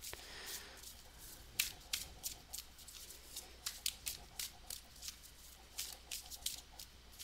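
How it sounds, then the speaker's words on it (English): Quick, papery riffling bursts of tarot cards being shuffled come in irregular clusters, soft and close, with faint rustling between them and no voices. "Sorry for all the shuffling."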